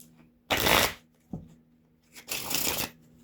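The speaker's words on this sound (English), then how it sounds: "shuffle again." Playing cards shuffled outdoors on a gusty day, two quick riffling bursts about a second apart with a short pause between, close and crisp, no talk.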